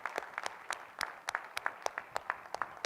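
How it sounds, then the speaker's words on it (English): Scattered applause from a small audience closing a business panel session hosted by a corporate sponsor, with sharp uneven claps spread across the moment, moderately close and fairly sparse. "Let's give our Koch a very rousing round of applause."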